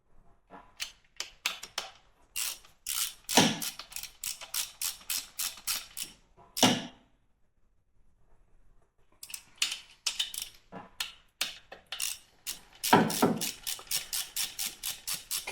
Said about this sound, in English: we're going to go around and we'll tighten up the oil pump